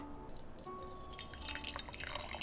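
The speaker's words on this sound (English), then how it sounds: "First, I will use the hot water to warm the cup." Hot water trickles and drips into a small tea cup to warm it before a smoked black tea is served. The soft, close pour is faint and irregular, with light splashes and a few faint tones behind it.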